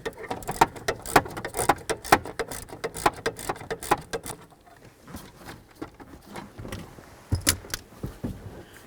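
Socket tool loosening an inverted Torx bolt beneath the steering column of a Chevy S-10 pickup: rapid metallic ratchet clicks and jangling in bursts, close up, with quieter gaps and a few sharper clinks near the end.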